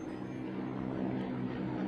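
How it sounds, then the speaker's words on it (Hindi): Russian attack helicopters patrolling over Kyiv during wartime produce a steady, fairly faint rotor and engine drone that holds constant across the whole stretch, with no voices. "कीव के ऊपर पेट्रोलिंग करते रूसी हेलीकॉप्टर"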